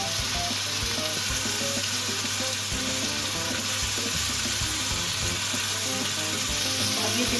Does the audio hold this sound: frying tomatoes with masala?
yes